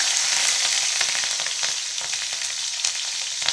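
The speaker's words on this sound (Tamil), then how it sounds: "அடுத்து பச்சை மிளகா போடுறேன்" Green chillies, cut in two, hiss and crackle in hot oil in a pan while cooking Tamil-style egg podimas, a steady loud sizzle with occasional sharper pops and stirring, no talking.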